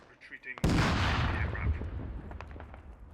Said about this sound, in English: That was a rocket.